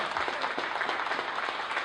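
An audience claps steadily for a judge being introduced at a poetry slam, with dense, even applause throughout and no clear speech over it.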